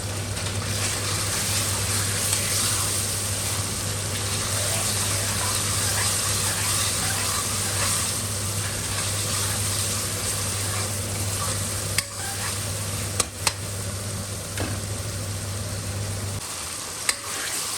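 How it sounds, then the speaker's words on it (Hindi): Mutton mince, 200 grams, is fried in masala in a pan and stirred steadily. A continuous dense sizzle fills the clip along with a low steady hum, and a few sharper knocks of the spoon come near the end. "अब कीमे को भी हमने इसी तरह से अच्छी तरह से भूनना है।"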